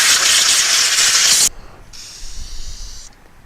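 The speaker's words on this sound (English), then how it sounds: "Now that I've got it sanded, one more time with the air compressor" An air compressor nozzle blows dust off a sanded cedar scroll saw piece, a loud, close hiss of air for about a second and a half, followed by a fainter second burst after a short pause.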